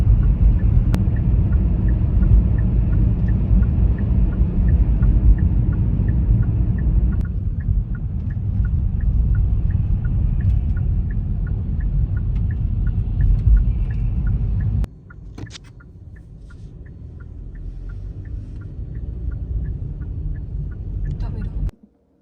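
Car cabin rumble during a night drive through heavy traffic: a steady low engine and road drone with faint periodic ticking, a sudden drop in level midway, then the hum continuing more quietly.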